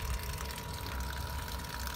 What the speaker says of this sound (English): I also have opened up the drain on the fresh water tank